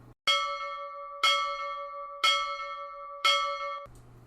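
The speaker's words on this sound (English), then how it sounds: "pulled the rope on the brass bell mounted on the porch railing" A bright brass bell mounted on a porch railing, rung by pulling its rope, sounds four times at an even, slow pace, each clear metallic strike ringing out before the next, then stops abruptly.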